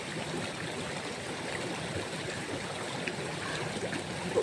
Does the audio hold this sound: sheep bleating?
no